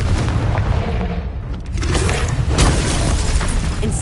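Confringo, an explosive spell cast in the Hogwarts Legacy video game, gives a loud booming blast with crackling, mechanical clatter that runs on steadily, dense and close, with no voices.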